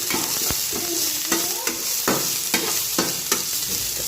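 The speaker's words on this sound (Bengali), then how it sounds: "গাজরটা একটু মেরে নিই একটু ভেজে নিই" Carrots fry in a pan with cumin seeds, a steady close sizzle broken by repeated scraping stirs of a spatula, and no talking.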